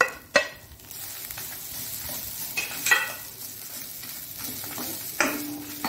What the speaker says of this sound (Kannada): ಇನ್ನು ಆ ಬಿಸಿಗೆ ಈ ಒಂದು ತೆಂಗಿನ ತುರಿಯನ್ನು ಹಾಕೊಳ್ತಿದ್ದೇನೆ.